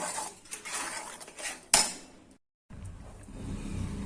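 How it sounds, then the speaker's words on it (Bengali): Ginger paste is mixed with spices in a pan for Kashmiri aloo dum, with repeated metal spoon scrapes and clinks and one loud clank, then a brief silence before quieter stirring with no talking. "এবার আমি সব মশলার সাথে আমি মিক্সড করব।"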